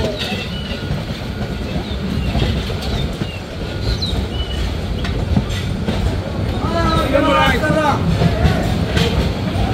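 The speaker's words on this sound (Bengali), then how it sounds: "ট্রেনটি প্রবেশ করলো আখাউড়া জংশন রেলওয়ে স্টেশনে" The Mohanagar Express rolls into Akhaura Junction railway station with a loud continuous rumble of wheels on track and some squealing tones toward the end, while people talk over it.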